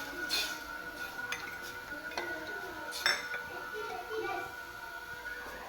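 A spoon clinks and scrapes against a pot while soaked gram flour is stirred into tamarind kadhi, soft irregular taps and chinks under quiet speech.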